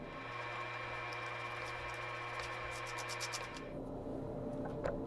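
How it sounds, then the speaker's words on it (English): A blade or cutter slices away a slit in the plastic covering over a glass-fill epoxy table top, giving a steady mechanical whir for most of the clip, then stopping and leaving quieter scraping and small ticks. "Now I cut that slit off."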